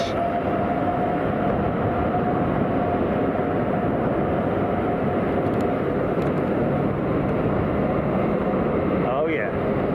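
Airliner landing at London Heathrow in strong wind, a loud, steady roar of jet engines and gusting wind, with a brief thump and a passing tonal sweep near the end.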